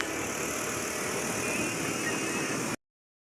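A car being driven near Balagtas, Bulacan, with a steady engine drone and road rumble heard from inside the cabin. The sound stays constant and fairly loud, with no talking, and cuts off abruptly near the end.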